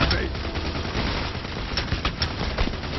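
Dense gunfire from a shootout in the heist video game PAYDAY The Heist, with rapid overlapping shots and bursts that continue steadily throughout, fairly loud and filling the scene.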